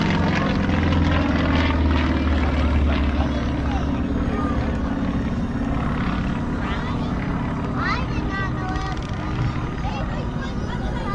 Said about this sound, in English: The radial engine of that Yak sounds completely different than the engine of the T-34.